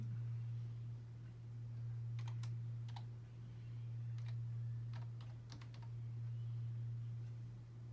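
A password is typed on a computer keyboard as short clusters of quiet key clicks over a steady low hum, close and faint.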